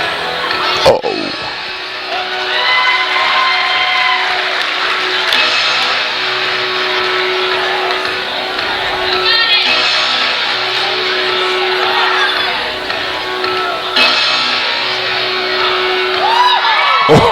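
A high school boys basketball game crowd and cheer squad yell and cheer, with voices rising and falling, scattered whoops and shouts, and sharp squeaks and thuds from the court over steady gym noise.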